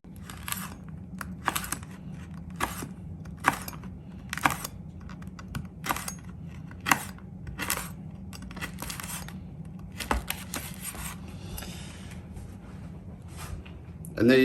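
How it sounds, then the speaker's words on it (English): A knife slices through a piece of homemade biltong that is still slightly moist, giving a series of short, crisp clicking cuts at a steady rhythm. Quiet background sound fills the pauses between cuts. "So let's get a knife and cut a piece."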